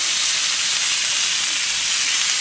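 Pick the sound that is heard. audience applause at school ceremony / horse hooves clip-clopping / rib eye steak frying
rib eye steak frying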